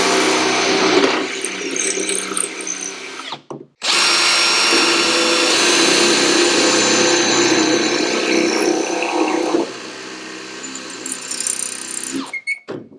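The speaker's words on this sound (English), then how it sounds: "Now you can drill the bottom holes." A power drill bores holes for mounting a go-kart seat, whining loudly in two long sustained bursts separated by a brief pause, ending with short stuttering pulses as the bit finishes.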